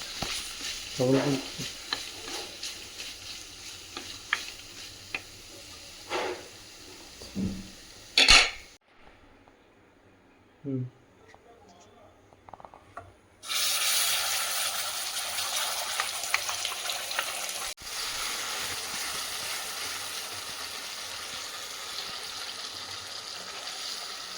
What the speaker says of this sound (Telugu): ఒక టమాటా ఒక ఉల్లిపాయను మనము ఈ రకంగా వేయించుకోవాలి